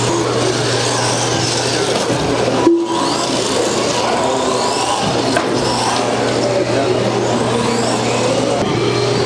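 A WLtoys 124019 RC off-road buggy runs laps around a dirt track with jumps, its small electric motor whining and surging at a fairly loud level, with a brief sharp knock partway through.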